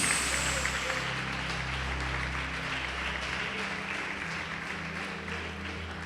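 A church congregation applauds the Lord Jesus during a sermon. Dense clapping rings out at first and then thins gradually, over a steady low hum of the room and its sound system.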